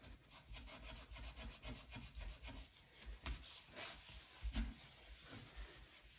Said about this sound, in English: So we're going to give that a better scrub.